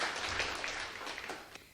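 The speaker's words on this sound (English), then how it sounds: "Give yourself a clap." A group applauds children with disabilities in Kenya: steady, dense clapping that fills the short moment and fades slightly toward the end.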